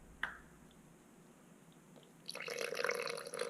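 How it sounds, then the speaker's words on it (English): Water, 100 milliliters, poured into a purple concrete pigment mix of red and black pigment for a cactus planter, heard as a sudden close splash and steady liquid rush filling the last second alone. "I'm going to pour in 100 milliliters of water."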